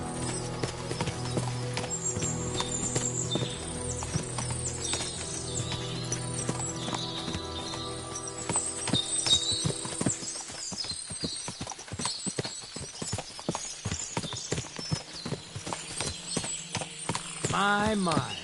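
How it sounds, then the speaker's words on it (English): Several horses clip-clop and occasionally whinny in the medieval open world of Kingdom Come: Deliverance II, hooves thudding steadily close by over a dense game ambience and music bed. "What a lot of horses."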